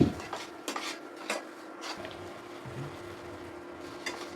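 Sugar and spices being stirred in a pan for shim pathuri, with a few clear utensil clinks and scrapes against the metal, close and moderately quiet, and no talking.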